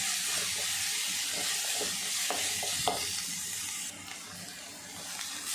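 Onion with ginger and garlic frying in a little oil, heard as a steady broad hiss with a few soft stirring knocks, moderately quiet and continuous with no talk.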